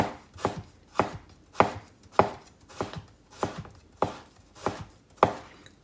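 A knife chops food on a cutting board in nine or ten evenly spaced, soft strikes, alone and fairly quiet.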